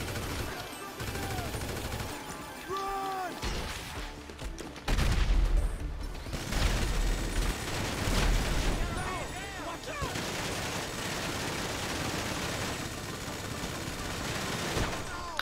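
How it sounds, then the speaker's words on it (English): Gunfire in a video game, bursts of rapid shots and heavier booming blasts mixed with a sustained rumble, loud and continuous through the stretch, with voices talking and shouting over it. "Who the fuck shooting?"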